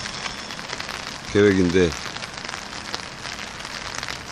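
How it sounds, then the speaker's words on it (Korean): Steady rain falling at night beside the Han River during eel fishing, a dense, close hiss of drops that continues throughout, with someone speaking briefly over it. "새벽 2시가 조금 넘었는데 비가 내리기 시작하고 있습니다."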